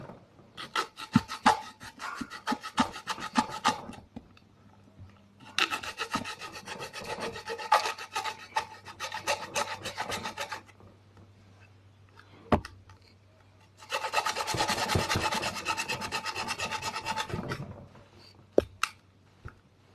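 Plastic touchlight charging-pin housing is cut at the end of its threading in three long bursts of rapid rasping strokes, close and crisp, with a single sharp tap between the second and third runs.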